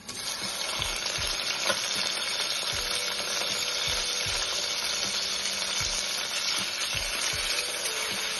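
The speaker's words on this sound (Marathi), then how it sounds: "टोमॅटोला चांगलं परतून घेऊया" Tomatoes and reddened onion sauté in a hot pan for peas pulao, a steady close sizzle with occasional soft scraping stirs throughout.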